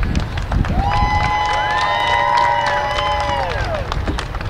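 A crowd cheers and applauds for the United Riders drill team at a state meet's opening ceremonies. The loud, dense roar of voices and clapping holds steady throughout, with whistle-like tones rising and falling above it.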